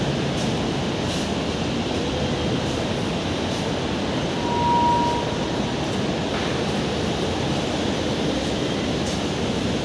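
An MRT train moves through a station, giving a steady broadband rumble and wash of noise that fills the whole stretch. A brief tonal squeal rises midway, and no one speaks.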